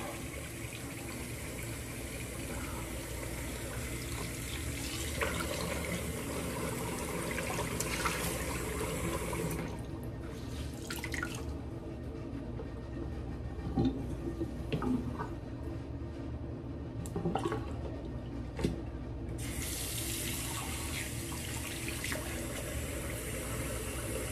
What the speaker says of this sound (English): I'm surprised at the hot water I've got here in the sink.